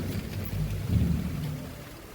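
Steady rain falls during a thunderstorm, with low rumbling thunder swelling near the middle and a continuous wash of rainfall, no voices present.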